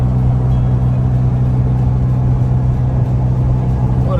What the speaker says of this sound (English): Here comes David in the Jaguar.